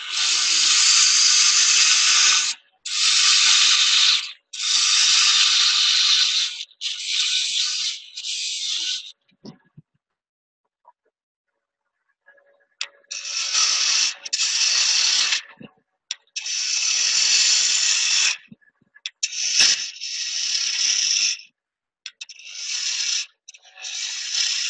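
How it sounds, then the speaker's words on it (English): Wood on a lathe being turned into a straight cylinder with a turning tool, giving bursts of bright hissing, scraping cuts separated by short pauses and a longer gap in the middle, close and fairly loud. "I'm going to turn it into a cylinder roughly this diameter here. Bring that down, make that a nice straight cylinder."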